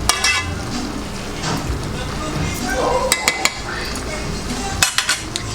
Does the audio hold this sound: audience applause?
no